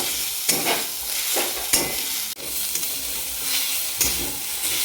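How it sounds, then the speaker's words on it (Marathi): Grated fresh coconut stirred in hot ghee in a pan, giving a steady soft sizzle with repeated scraping strokes of a spoon, close and alone without talk. "तूप गरम झालेलं आहे त्या त्यामध्ये आपण हा नारळाचा किस घालून घेऊ त्याला व्यवस्थित हलवून घ्यायचे आहे"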